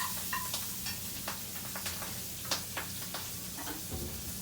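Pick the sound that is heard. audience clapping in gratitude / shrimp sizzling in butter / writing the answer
shrimp sizzling in butter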